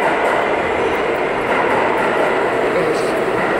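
A New York subway J train rumbles loudly and steadily with a dense, continuous roar of wheels and carriage noise, close and filling the whole moment.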